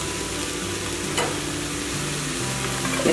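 Cannellini beans, corn and peas stirred together in a pot of hot vegetable pot pie filling, a steady close sizzle with a soft scrape of the spoon partway through and no voices.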